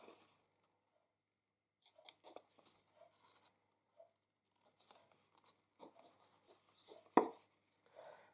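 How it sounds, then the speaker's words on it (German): Scissors snipping a small rectangle out of paper for a handmade gift box, scattered short crisp cuts close up, with pauses and a louder clustered run of snips near the end, no talking. "Und da fangen wir jetzt an und schneiden als erstes das kleine Rechteck raus."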